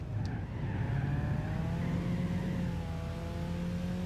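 Race car engines in Gran Turismo 6 during a Japanese 90's and classic sportscar race, a steady loud drone with rising and falling tones as a car closes in from behind, including a Lancia Stratos.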